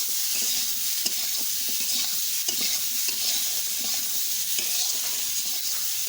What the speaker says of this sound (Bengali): আলুটা ভাজা পেঁয়াজ হয়ে আসলে পেঁয়াজটা দিয়েই চাই দেখবা বন্ধুরা ভাজা পেঁয়াজ হয়ে যাবে